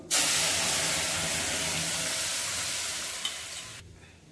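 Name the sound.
chuka and dill greens added to hot oil with mustard seeds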